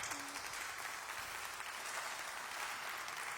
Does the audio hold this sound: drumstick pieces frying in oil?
no